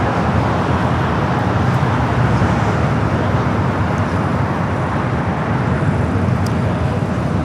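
Boeing 737-900ER airliner taxiing at LAX airport, a loud, steady engine roar and rumble that holds constant throughout, heard from nearby with no speech.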